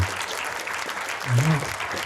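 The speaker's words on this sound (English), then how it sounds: "please, a huge round of applause" An audience at a tech makers meetup gives a round of applause for an organizer, steady clapping from a crowd with a voice talking over part of it.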